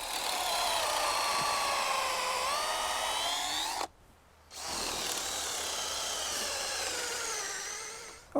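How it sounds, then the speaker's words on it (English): A power drill whines steadily as it bores holes into a wooden tree stump, pausing briefly midway before starting up again, loud and close. "that's why I'm going to be drilling holes"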